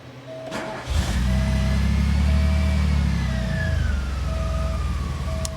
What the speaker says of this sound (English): It's a cold start. And it starts and runs perfectly.